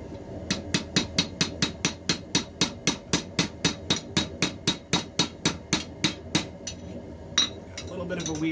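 A blacksmith hammers metal on an anvil while shaping a napkin holder, about twenty-five sharp ringing blows in a steady even rhythm, close and loud, with a few lighter taps near the end.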